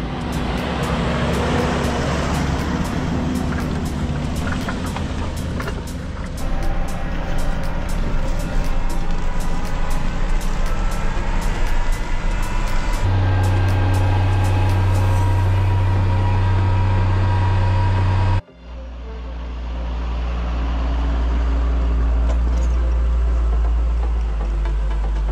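A ute carries a load of tires up a hill, its engine droning steadily through bumpy road noise, then a deep low rumble swells, cuts out abruptly near the end and returns heavier as the climb continues.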